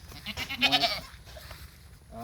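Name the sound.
male breeding goat bleating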